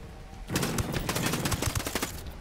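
Close machine gun fire rattles in a steady rapid burst in Ghost Recon Breakpoint, a dense string of loud shots lasting about two seconds with no talking.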